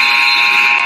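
A loud, harsh basketball game buzzer blares in one continuous burst at a girls' varsity game, close and strident.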